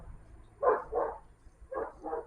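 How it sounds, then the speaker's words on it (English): A dog passing by barks four times outdoors, in two quick pairs about a second apart, moderately loud over a quiet background. "Dog just rode by."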